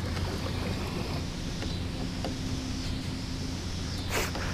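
Outboard motor running steadily on a small boat during a river float trip, a continuous low engine drone with wind and water noise around it, fairly close and loud.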